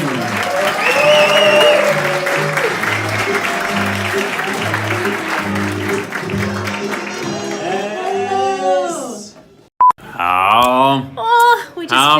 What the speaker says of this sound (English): A big round of applause for your hosts, Brittni, Bowering, and Zacharias Brunson.